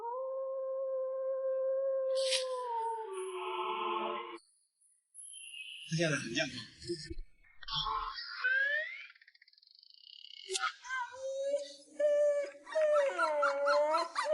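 A dog in heat whimpers and lets out drawn-out, wavering howls, close and fairly loud, with a voice speaking in between the cries.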